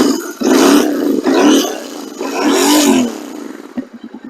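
A 2021 Royal Enfield Continental GT 650 parallel-twin motorcycle fires up with a loud close roar, rises and dips through a couple of throttle blips, then settles toward a lumpy idle, with no voices.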